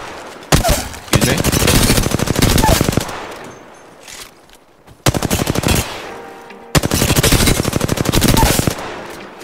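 Automatic weapon fire in Apex Legends aimed at moving targets, heard as two long bursts of rapid gunfire split by a short pause and a quieter gap, loud and close with no speech.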